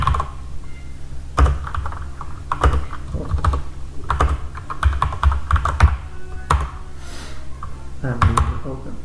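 Rapid clacking on a computer keyboard, an uneven run of close, crisp keystrokes with short pauses, under a voice talking.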